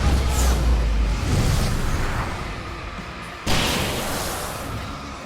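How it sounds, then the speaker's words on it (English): Fireworks go off in the video game Alan Wake Remastered: a loud booming burst with a whooshing rush, then a second sharp blast that rings out and fades, with no voices. "I can set off one of the fireworks from here!"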